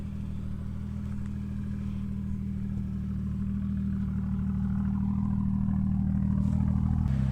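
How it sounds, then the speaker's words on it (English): BMW M2 engine running near the microphone, a steady low idle hum with a slight rise in pitch near the end, no voices. "Gave you guys some revs."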